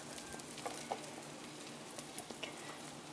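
Onions frying in a pan while making Swedish meatloaves, a soft steady sizzle with faint scattered crackles and a few stirring taps, quiet and close with no talk.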